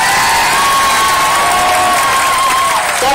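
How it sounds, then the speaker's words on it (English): A crowd at a women's pro-choice rally claps and cheers loudly throughout, with sustained applause, whoops and raised voices filling the space. "Let's give her a round of applause."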